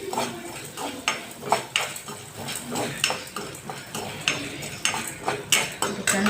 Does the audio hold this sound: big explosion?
no